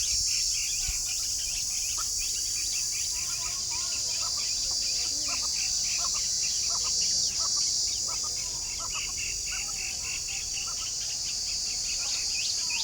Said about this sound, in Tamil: இந்த சில்லுவண்டு இருக்கிற இடம் இதுதாங்க.